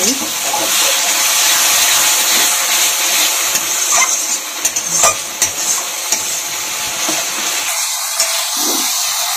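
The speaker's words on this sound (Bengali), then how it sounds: "সামান্য একটু জল দিয়ে ভালোভাবে কষিয়ে নিচ্ছি।" Vegetables, peas and soybeans stir-fried with a splash of water in a wok-style pan, a steady loud sizzle with scraping stirs and clinks throughout, a brief voice near the end.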